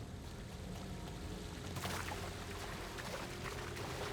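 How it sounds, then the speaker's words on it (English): Rising floodwater pours and rushes through an underground passage during a storm in Mafia: The Old Country, a steady broadband wash that swells louder partway through and continues without speech. "Water's rising down here."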